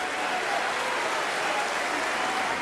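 Audience applause at a concert, a dense, steady wash of clapping filling the whole stretch at an even level, with no music or talk on top.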